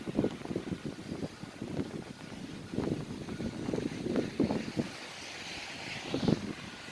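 Blizzard wind roars steadily, blowing and drifting snow off a roof, a broad continuous rush with gusty swells that stays loud and close throughout.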